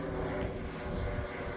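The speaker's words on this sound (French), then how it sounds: "J'adore ce genre de petits avions là comme ça." A small propeller airplane passes overhead near an aerodrome, a steady droning engine hum heard outdoors at a distance under a person speaking.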